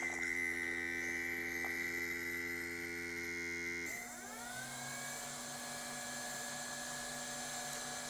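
A Humminguru ultrasonic record cleaner runs its drying cycle with a steady whining motor hum and tonal whir, which shifts abruptly to a different, slightly softer fan tone partway through.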